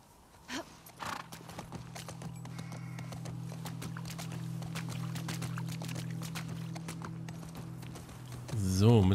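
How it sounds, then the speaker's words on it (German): Horse hooves clip-clop in a steady rhythm in the video game The Last of Us Part II, under a low engine-like hum, with a loud whinny near the end and brief snorting earlier. "So, Pferdchen. Wir müssen ein Tor öffnen. Komm mit."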